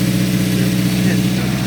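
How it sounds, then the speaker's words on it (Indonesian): A car engine idles steadily and close by, giving a continuous low hum with no revving. "selanjutnya kita periksa ke abnormalan suara mesin"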